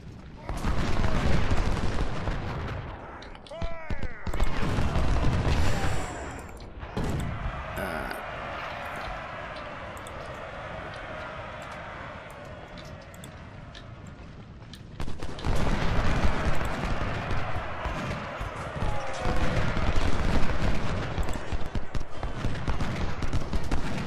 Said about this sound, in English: And open fire.